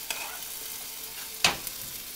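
Potatoes fry in oil in a pan for potato pulao, a soft steady hiss broken by one sharper crackle and a faint stir, close and fairly quiet with no talk.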